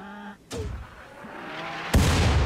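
Two booming artillery shots from the Rimworld video game, one early and one about a second and a half later, each a loud close blast followed by a fading rumble, without talk.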